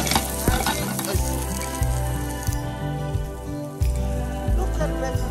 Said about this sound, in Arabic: نديرو لها شويه زيت هايا ونحطو الباذنجان تاعنا في التقلة لداخل